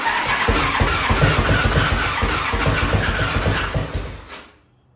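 An old barn-find Harley-Davidson motorcycle engine, brought back to life after ten years unused, runs loud and close with a rough, uneven throb and surges of revving, then cuts off abruptly near the end.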